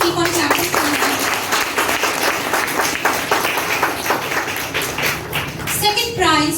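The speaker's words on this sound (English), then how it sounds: "Children, please keep on clapping for them." Children at a school prize-giving ceremony during Fit India School Week clap steadily in a dense, continuous patter that runs the whole stretch, with voices mixed in beneath the clapping.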